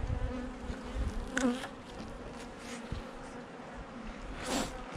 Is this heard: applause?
no